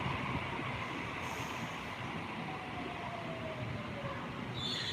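Train at a Sydney station platform, a steady rumbling rail noise with a faint rising whine and a brief hiss near the end, moderately loud and heard alone.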